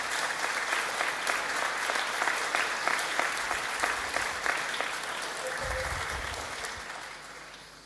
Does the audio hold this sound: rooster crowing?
no